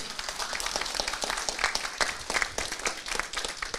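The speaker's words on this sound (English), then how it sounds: "Let's give Doctor a round of applause." An audience claps for a doctor after a talk on multiple sclerosis, with a lively spread of individual claps and louder peaks throughout.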